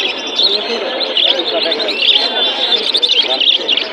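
Many caged budgerigars and pigeons at a busy bird market chirp and twitter densely and continuously, fairly close, while a voice talks underneath.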